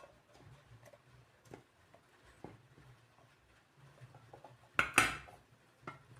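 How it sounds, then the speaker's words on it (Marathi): Chopped raw mango pieces are moved onto a plate, making faint scattered taps and light clatter with one louder clink near the end, in a quiet kitchen with no speech. "आता कैरी आपण एका ताटलीमध्ये काढून घेऊया."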